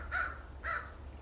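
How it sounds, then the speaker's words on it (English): A crow caws twice, two loud, harsh calls spaced about half a second apart over a low steady outdoor rumble, with no talking. "I think that crow agrees with me."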